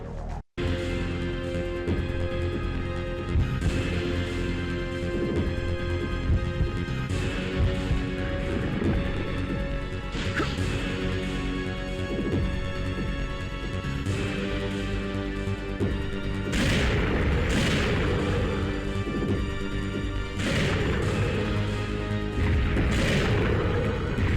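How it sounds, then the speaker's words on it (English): A rail cannon firing at a mutated Nemesis in Resident Evil 3, heavy booming blasts recurring every few seconds over a dense, continuous wall of game sound effects and score. "You'll need to use the rail cannon to destroy Nemesis, who has now mutated into a large mass"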